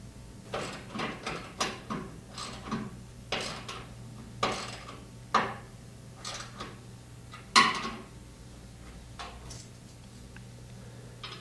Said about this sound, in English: Replace and tighten the 3 inner bolts and torque them to 150 inch-pounds.